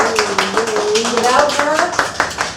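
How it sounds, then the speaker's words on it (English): An audience at a mock campaign event gives a round of applause, quick rhythmic claps close by with a voice talking and cheering over them throughout. "Everyone give her a round of applause."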